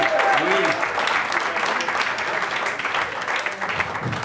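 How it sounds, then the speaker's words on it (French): Audience applause at a French business event, a steady wash of clapping from a crowd, with a voice briefly audible through it near the start and end. "faire un tonnerre d'applaudissements pour Lionel et Nora"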